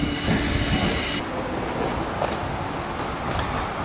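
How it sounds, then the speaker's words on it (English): A train rumbles and clatters in steadily, with a high metallic whine that cuts off partway through, leaving broadband rail noise and occasional clicks. "we're just getting our train now, you can see coming in on our way home"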